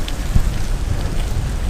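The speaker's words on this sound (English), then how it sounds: "I would not recommend riding so fast through the rain" Heavy rain during a fast wet commute on a bicycle with rim brakes and fenders, a dense close hiss of spray and drops mixed with buffeting wind noise, loud and steady, with no talk.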